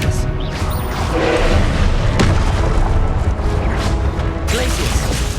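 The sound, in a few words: Expelliarmus spell cast in Hogwarts Legacy video game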